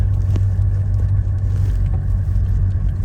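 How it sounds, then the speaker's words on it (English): Heard from inside while driving, a 1984 GMC Suburban K2500 with a Detroit diesel produces a continuous low, loud engine drone and road rumble with no break. "On our drive of this 1984 GMC Suburban K2500."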